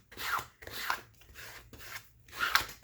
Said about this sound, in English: We're going to take our card and just rub it into that glue.